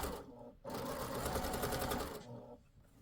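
A sewing machine stitches elastic into fabric, its needle whirring in one fast, close run of about two seconds with softer moments at the start and finish.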